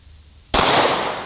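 A single sharp, loud gunshot, fired at an old shaving cream can lying outdoors near trash, cracks after a quiet moment and leaves a long ringing decay.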